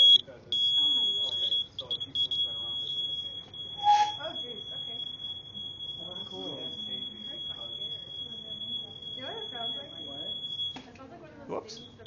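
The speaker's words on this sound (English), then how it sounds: "It's a fire alarm buzzer. It's a piezo buzzer." A shrill, piercing piezo fire alarm buzzer sounds one long continuous high tone, briefly broken near the start, while a person keeps talking over it.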